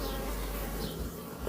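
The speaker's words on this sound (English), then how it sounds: "These are lovely little bees." Honey bees buzz in an opened beehive in Plymouth, UK, a soft, steady swarm hum close by with no voices.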